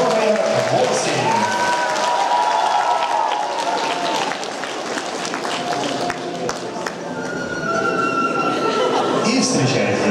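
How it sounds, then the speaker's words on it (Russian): An audience at a cosplay costume show applauds a contestant with dense, loud clapping that dips in the middle and swells again, with scattered cheers and laughter mixed in. "Ваш аплодисмент для номер 8"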